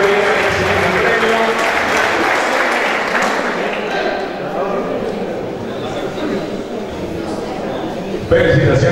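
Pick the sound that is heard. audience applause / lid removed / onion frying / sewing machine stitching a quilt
audience applause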